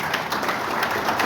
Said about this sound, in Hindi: तो मुझे लगता है सरकार के लिए ताली बजानी बनती है